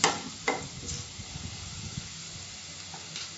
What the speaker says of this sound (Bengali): রসুন কুচিটা কয়েক সেকেন্ড ভাজবো, বেশি পোড়াবো না।